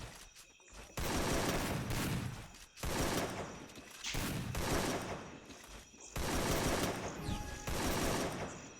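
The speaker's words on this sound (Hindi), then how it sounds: "यहाँ से कवर फायर करता हूँ, एक बंदे को डाउन कर देता हूँ" AK rifle fire in a Counter-Strike match: loud, sustained automatic bursts of several seconds each, separated by short pauses, dense and close, with no speech.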